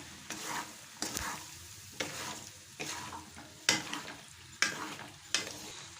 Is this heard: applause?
no